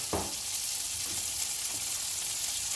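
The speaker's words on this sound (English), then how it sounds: "I want that butter to brown a bit, give it flavour." Gnocchi fry in browning butter with pepper in a pan, giving a steady, quiet sizzle and hiss with a few soft stirring knocks.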